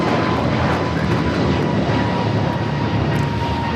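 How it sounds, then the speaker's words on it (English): American Airlines Airbus A321neo, flight 2311 to Miami, taking off at LAX: a loud, steady broadband jet engine roar that holds constant throughout, close and continuous with no talk. "This is American Airlines 2311 taking off to Miami, Florida on the A321neo."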